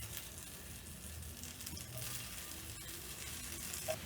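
Potato wedges fry in hot oil in a pan, giving a steady, soft, continuous sizzle with no voices.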